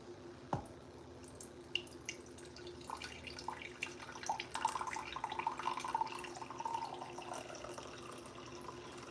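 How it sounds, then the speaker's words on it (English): Homemade coffee trickles into a cup in soft, close splashes with a few drips, a low steady pour that builds slightly toward the end. "And then you pour yourself a cup of coffee."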